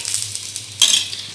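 A millet rotla cooking on a tawa as ghee is spread around its edge, a soft close sizzle that suddenly flares louder and brighter near the end as the ghee hits the hot pan, with no voices.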